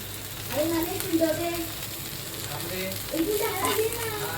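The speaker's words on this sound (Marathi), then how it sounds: "जवळजवळ फिश फ्राय पूर्ण झालेले आहे" Ravas fish slices shallow-frying in a pan, a continuous close sizzle running underneath intermittent talking.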